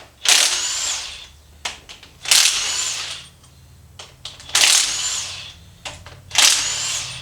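A Matco power tool, likely an impact wrench, runs in four loud, close bursts of about a second each, with short clicks and rattles between the runs.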